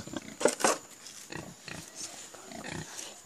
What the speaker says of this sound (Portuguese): A mamãe pig e o papai pig.